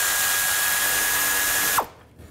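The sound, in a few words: 10mm socket wrench removing bracket bolt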